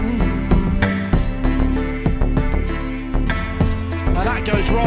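A Korg SQ-64 sequencer drives a busy half-time electronic pattern of punchy drum hits, bass and synth tones, steady and loud throughout.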